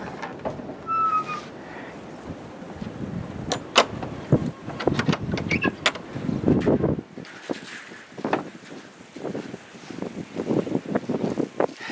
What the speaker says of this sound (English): It's been so windy that these gusts have been so strong.